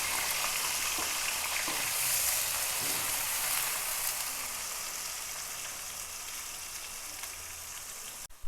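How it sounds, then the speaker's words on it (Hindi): Bay leaves, onions and green chillies fry in a pan for a chicken pulao, giving a continuous, even sizzling hiss up close that cuts off abruptly at the end. "अब इसके अंदर 2 तेज़पात मैं डाल रही हूँ, ये डाल देंगे, और 2 दरमियाने प्याज और ये 4 अदद मिर्चें, इसको हमने भूनना है।"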